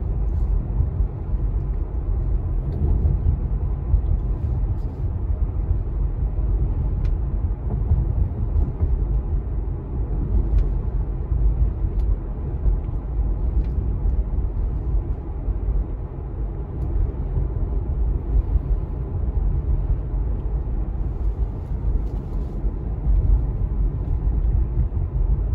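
Inside a Tesla Model 3 driving down a road, a steady low tire and road rumble runs unbroken throughout, with no voices.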